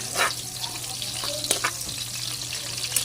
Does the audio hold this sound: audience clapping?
no